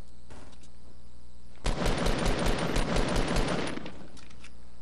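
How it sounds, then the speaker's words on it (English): Distant automatic gunfire in Fortnite Battle Royale from a big fight on a mountaintop, a sustained rattling burst of rapid shots lasting about two seconds over a quiet steady hum, with no talking. "Where? I hear shots."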